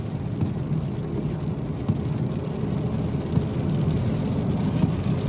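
Heavy rain pours down during a highway drive on NH 44 from Bangalore to Hyderabad, a steady broadband rush with low rumbling that may include thunder, heard continuously without talk.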